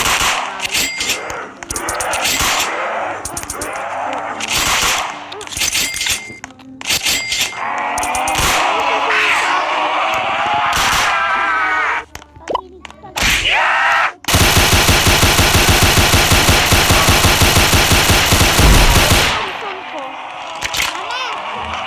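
Rapid automatic fire from a Tommy gun in a video game, a long sustained burst near the end after scattered shots, with excited voices talking throughout.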